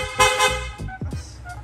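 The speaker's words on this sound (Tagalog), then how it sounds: "Sir, pa-activate naman ng loud horn." A loud aftermarket PIAA horn on a Yamaha Sniper 155 motorcycle honks twice in quick succession, followed by brief mechanical clicks and a faint voice.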